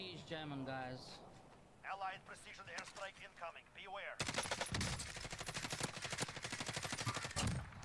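Rapid automatic gunfire in Call of Duty Warzone shoots through a wall, a dense burst of sharp repeated cracks that dominates the second half, following a stretch of commentary and scattered shots.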